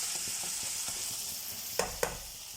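Okra (ladies finger) sautéing in a pan, a steady close sizzle with light rhythmic stirring taps and two sharper knocks near the end, no voices.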